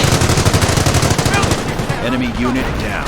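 Machine gun fire rattles in rapid, loud bursts during a Company of Heroes battle, a dense close chatter of shots that fades into scattered reports and rumble, with someone talking excitedly over it.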